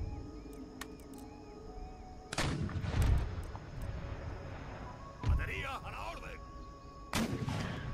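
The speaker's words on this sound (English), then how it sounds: "the rear one has to fire round shot" Artillery pieces fire round shot in a Empire: Total War battle, with several loud booming blasts spaced a few seconds apart over ongoing battlefield noise and game sounds, while someone talks.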